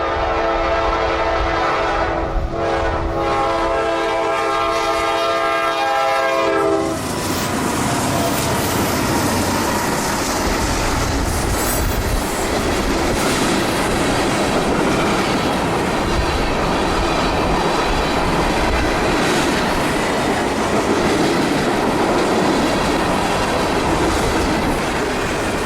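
Norfolk Southern freight NS 321 passes in the heart of Georgia. Its horn blares loudly at first, then gives way to a heavy, continuous rumble and rattle of cars rolling by close at hand.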